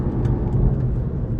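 A VW Golf 7 GTI engine drones steadily from inside the cabin while being driven hard into a hairpin bend, a loud, continuous low roar with road and wind rumble.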